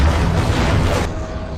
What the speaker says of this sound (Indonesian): akibat ledakan itu Stephanie yang masih terkunci seatbelt di dalam mobil tidak bisa keluar